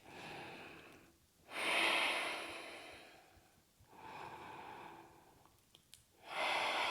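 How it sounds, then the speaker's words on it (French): A person breathes slowly and deeply while holding a yoga pose with arms raised. Long, close, audible breaths alternate in and out, each swelling and fading, with no talking. "Et vous respirez."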